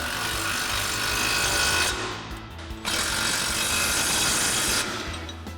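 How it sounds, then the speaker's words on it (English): Impact wrench driving suspension bolts with an 18mm socket during a 4-inch lift kit install on a Silverado 1500; loud, continuous rattling bursts with a short pause near two seconds, then a second long run close by. "grab our 17mm wrench and our 18mm socket on our impact and tighten down these bolts"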